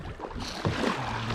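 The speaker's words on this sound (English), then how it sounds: "Yeah, start paddling or we all miss this." Kayak paddles splash in river water on a tour below the Hoover Dam, giving short, close watery swishes and dips over a wind-blown background.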